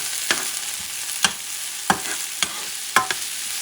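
Sweet peppers frying in a pan hiss softly and steadily while a spoon stirs them, giving about five sharp scraping strokes spread unevenly across the sizzle, close and quiet.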